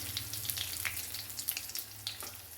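Powdered asafoetida and curry leaves sizzle in hot oil, a soft crackling fry with scattered small pops and spits over a low steady background.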